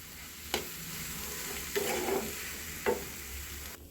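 Semolina upma with water stirred in a hot pan, a soft sizzle running throughout, with three distinct scraping strokes of the spoon against the pan.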